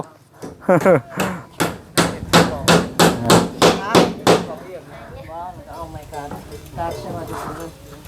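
Hammer blows drive nails on a house build in Thailand, about a dozen sharp, loud strikes in a steady rhythm, then stopping as a person talks.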